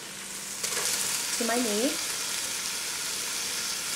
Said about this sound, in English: I'm going to go ahead and add my artichokes